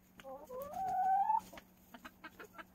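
A small flock of backyard hens clucks and calls in a coop on a slightly warmer day after cold weather, with a long rising squawk near the start followed by scattered short clucks close by.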